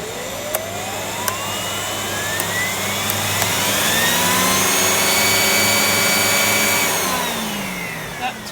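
A Miele 5000 vacuum cleaner fitted with a turbo head roars loudly and close by, its airflow whine rising and falling in pitch as the head moves, with a few sharp clicks and no voices.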